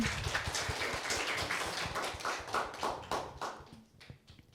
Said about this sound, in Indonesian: berikan tepuk tangannya dong